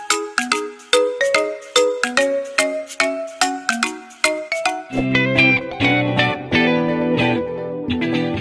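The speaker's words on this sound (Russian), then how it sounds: "мне вот только что смс-ку прислали" A text-message notification ringtone plays a bright electronic melody of short plinking notes, loud and alone. Partway through it shifts into a denser, sustained synth phrase with a steady beat, with no voices over it.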